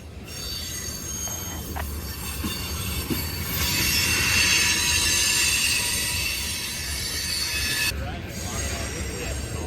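A Union Pacific freight train of ethanol tank cars rolls out of the Hull Ave yard, its wheels squealing loudly and continuously over a deep rumble of rolling cars, with the shriek swelling in the middle.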